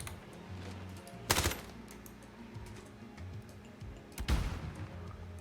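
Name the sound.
gunshots in the video game Warzone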